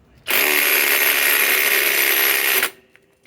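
A DEWALT power tool running on a 5 amp stacked lithium battery in below-freezing cold, a loud high-pitched motor whine starting abruptly, holding steady for just over two seconds and cutting off sharply, with no talk.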